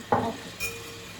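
Chopped onion drops into a hot pan for a Kerala-style breadfruit roast. A quick rustling, stirring burst gives way to a soft, close sizzle, followed by a brief light clink.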